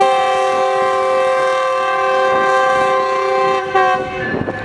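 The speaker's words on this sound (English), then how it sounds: "While the Metrolink was departing," A Metrolink commuter train departs, its horn sounding a loud, sustained multi-tone chord close by, with rail rumble underneath and a clattering shift near the end.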